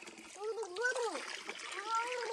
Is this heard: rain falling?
no